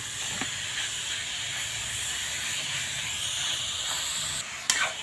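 Beef frying hard in a hot pan, a steady loud hiss and sizzle running throughout with a brief sharper crackle near the end.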